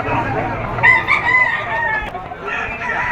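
A stag rooster crows amid the bustle of a poultry auction market in Lipa, its call rising clearly over a steady background of crowd noise and other fowl, with faint voices nearby.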